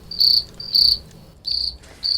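Played from a sound-effect button, crickets chirp in short, bright, pulsing trills, four clear bursts separated by brief pauses, loud and alone.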